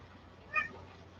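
A cat lets out a single short meow, faint and somewhat distant in a quiet indoor room, heard alone over low background hum.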